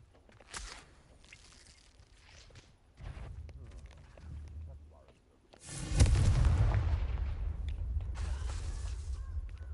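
Confringo explosive spell from Hogwarts Legacy, a muffled blast followed by a second, heavier boom that rolls into a long, loud rumbling tail.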